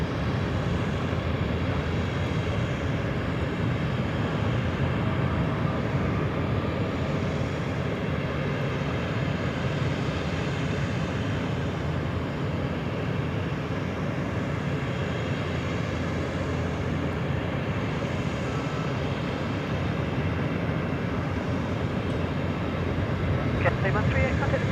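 Cathay Pacific flight 138 airliner departing Sydney Airport, a steady loud broadband jet engine roar that holds throughout with little change, a voice briefly talking over it.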